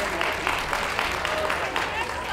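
Audience applause at a championship dog show, a continuous wash of clapping from a crowd, heard under and alongside a voice speaking over a public address.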